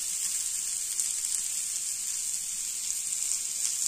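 Radish fries frying in a little oil, a steady, even sizzle with a soft crackle, close and continuous throughout, with no voices.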